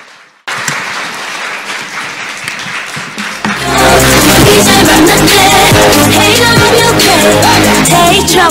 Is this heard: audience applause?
yes